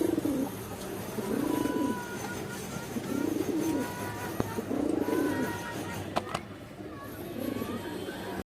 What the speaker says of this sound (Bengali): এটা একটা খরা গলা নর কবুতর